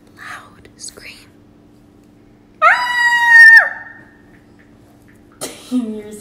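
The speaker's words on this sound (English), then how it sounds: "Loud scream." A loud, high scream near a pool rises and holds for about a second, set between soft whispers and quiet voices, with another brief sharp cry at the end.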